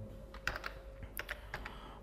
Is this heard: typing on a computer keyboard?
yes